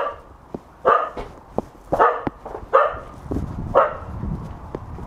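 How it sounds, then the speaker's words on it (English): A dog barks in several sharp, loud bursts close by, spaced irregularly over a few seconds, with some softer yips and rustling between the barks. "What are you barking at?"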